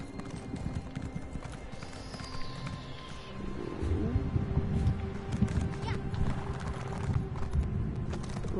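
Horse hooves clop rapidly on stairs in Elder Scrolls Online, a busy run of hoof strikes under game ambience with a brief whinny, while a person talks over it.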